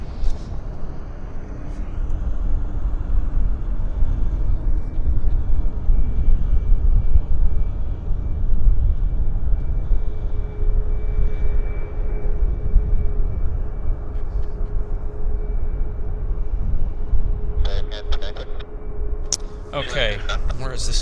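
Air Canada 566, an airliner at Vancouver Airport bound for San Francisco, rumbles and roars at a distance in a broad sustained jet noise, with faint clicks and bursts near the end.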